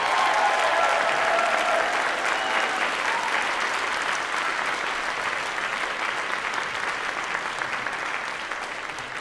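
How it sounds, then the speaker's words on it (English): Holiday concert crowd gives a long, dense round of applause, loud and continuous, easing slightly in the final seconds. "Give them a nice round of applause."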